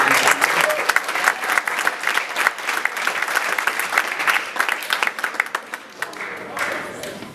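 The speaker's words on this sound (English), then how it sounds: "And a nice round of applause" Audience applauding at a high school project graduation hypnotist show, a sustained burst of dense clapping that holds steady and then thins toward the end.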